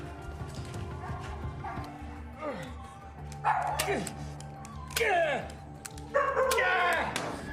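A pitbull puppy in a film yips and barks in short bursts, loud and close, over a busy soundtrack with rumbling background noise and some voices.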